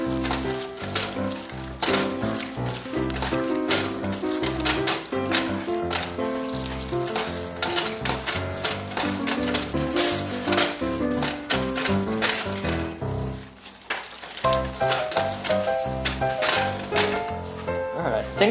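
Meatball mixture with eggs and salts is worked together in a bowl, producing dense, close, wet squelching and rapid clicking, stirring textures in an uneven continuous rhythm.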